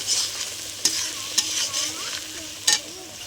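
Shrimp stir-frying with red chili, Kashmiri cumin powder, turmeric and sour yogurt, a constant close sizzle broken by a few sharp scrapes of a spatula stirring the pan.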